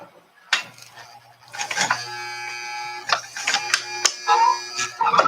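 A sewing machine stitches a fabric makeup pouch in short, uneven mechanical bursts, close by. Its whirring starts and stops with clicks and taps in between.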